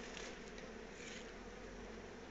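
A steady, dense buzz of many honeybees at a hive with two queens, continuous and even, heard up close without any voices.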